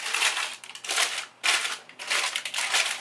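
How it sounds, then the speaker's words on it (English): Parchment paper crinkling and crushing over a pie shell filled with baking beans, in several loud, papery bursts with brief pauses between them, close up and with no talking. "I just kind of push my parchment back over here"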